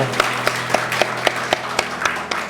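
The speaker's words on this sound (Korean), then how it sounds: "우리 큰 박수로 환영해 주십시오" A church congregation gives a welcoming round of applause, heard as a sparse, steady rhythm of distinct claps about four per second. A faint steady hum sits underneath.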